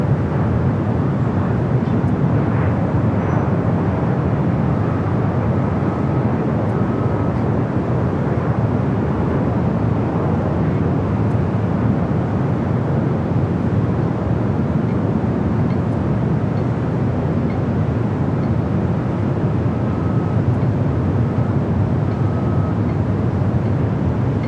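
A steady, loud, continuous jet roar from an American Airlines Boeing Dreamliner taking off at LAX, a broad rumble that holds level for the whole span with no voices.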